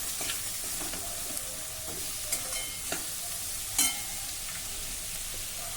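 Ridge gourd and tomato being stirred in a pan, a low steady sizzle with soft, irregular scraping strokes and one sharper clink, no voices.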